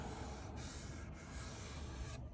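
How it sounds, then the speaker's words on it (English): Sandpaper rubs steadily across a wooden keepsake box, a continuous quiet scratchy hiss with brief pauses between strokes, no talking. "We are gonna do a little bit of sanding work."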